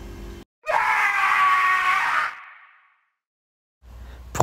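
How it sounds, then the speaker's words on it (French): Animated scene of people screaming in pain after an explosion: a loud, sustained chorus of agonized screams lasting over a second, then fading into a quiet decay before talk resumes. "Ce sont les cris de douleur des gens qui meurent à cause de l'explosion."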